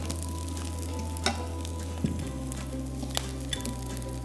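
Coarsely chopped garlic clove frying in oil in a pan, a steady close sizzle with occasional faint clinks and a low background hum.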